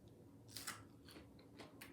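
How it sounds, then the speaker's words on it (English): Biting into an Impossible plant-based chicken nugget dipped in barbecue sauce gives a close, crisp crunch followed by a few softer chewing crunches, quiet and with no voices. "You hear that crunch?"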